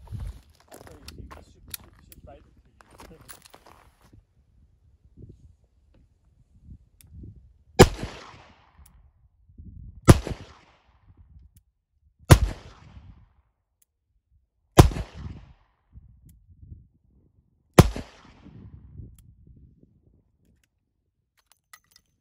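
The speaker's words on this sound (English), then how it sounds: "that was the shooting part of the video" Five sharp, loud gunshots from a Smith & Wesson 642 revolver, spaced a few seconds apart, each with a short ringing tail, preceded by faint handling noises and light shuffling.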